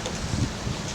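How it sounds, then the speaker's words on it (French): Strong gusty wind during an orange alert for violent wind buffets the microphone in a brief, loud, rumbling burst of low-pitched noise. "Alerte orange, vent violent."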